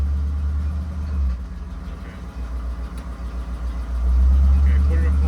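Low engine rumble from an '84 Chevrolet Camaro Z28 idling in a garage, steady and close, swelling louder near the end as revs rise.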